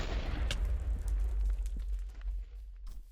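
A loud, rumbling burst from a Minecraft Twilight Forest portal being created, with a deep low roar that opens strongly and slowly fades over a few seconds, with crackling bits scattered on top.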